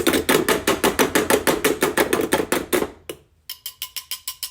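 Rapid metallic tapping of mixer beaters against a bowl of red velvet waffle batter, a steady run of sharp knocks, a short pause, then several more taps, close and loud.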